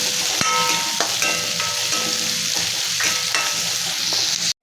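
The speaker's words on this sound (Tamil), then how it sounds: "இது கூட கொஞ்சம் கருவேப்பிலை, கொத்தமல்லி, நம்ம இடித்து வச்சுருந்த வெள்ளைப்பூடு, இஞ்சி அதையும் போட்டு இது கூட நல்லா வதக்கிடும்." Shallots, curry leaves, crushed garlic and ginger sauté in hot oil for a Udupi dal dumpling curry, sizzling loudly and steadily while a spoon scrapes and stirs the pan in repeated clanks.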